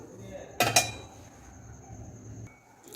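A spoon stirs sugar into milk in a pot, giving a couple of sharp metallic clinks close by early on before things settle into quiet.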